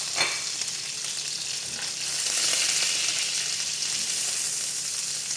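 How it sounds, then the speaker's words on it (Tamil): Cashews, peanuts and raisins frying in hot oil give a steady, bright sizzle that swells slightly partway through, close and continuous with no talking. "திராட்சை ஃப்ரை பண்ணிக்கலாம்."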